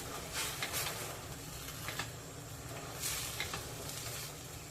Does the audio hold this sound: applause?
no